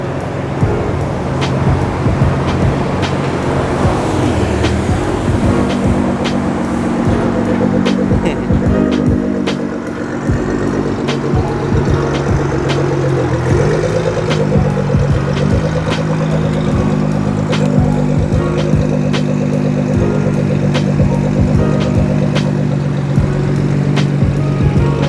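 A Nissan GT-R engine rumbles steadily and close by as the car pulls up at a Z club meet, a continuous low drone with sharp clicks and knocks scattered over it, no voices.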